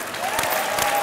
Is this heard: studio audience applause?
yes